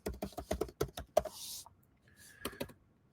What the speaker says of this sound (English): I'll type it in for you guys